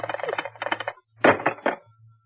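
A telephone in an old-time radio drama rings in two close, loud bursts of rapid bell trills separated by a short pause, with a low hum underneath.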